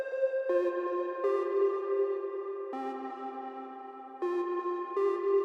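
Serum lead synth layer (LD Kidsus preset) in an FL Studio song remake, playing a melody of bright, plucky sustained notes with crisp attacks, changing pitch in a steady rhythm, alone without speech.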